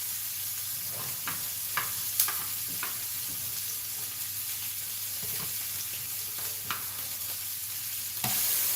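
Cut lamb pieces fry in a pan with a quiet, steady sizzle. Scattered utensil clicks and taps break in now and then, and one louder knock comes near the end, with no speech.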